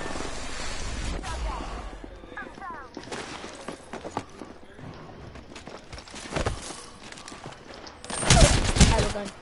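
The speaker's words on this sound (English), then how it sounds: "I am taking fire, friends" Gunfire in the video game Apex Legends, a rapid fusillade of sharp, broadband shots and bursts running through the scene, with a loud flurry near the end over a busy game-audio backdrop.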